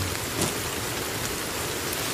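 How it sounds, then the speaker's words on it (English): Rain in Sons of the Forest, a dense steady hiss of falling drops that fills the short stretch evenly with no voices over it. "Oh, it's raining!"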